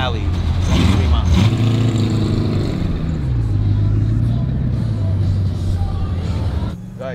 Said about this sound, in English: we're about to start our engines